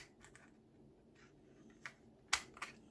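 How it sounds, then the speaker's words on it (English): A thumb notch is punched into a scrap of paper for crafting, giving a few short, sharp clicks and snaps close by in otherwise quiet surroundings. "So I will put a thumb notch in here."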